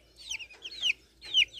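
Young chicks of mixed breeds cheep and cluck in a few short, high chirps, close by and clear over faint background hum.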